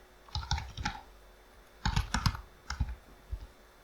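Clicky computer keyboard typing of Python code, two short bursts of quick keystrokes separated by a brief pause, close and fairly loud with nobody speaking.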